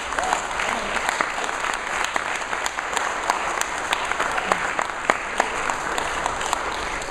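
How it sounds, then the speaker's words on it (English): An audience at a reporting night claps for a man sitting at the back, a lively run of close, sharp individual claps forming sustained applause with scattered louder hits. "Can we give a round of applause to Ezra"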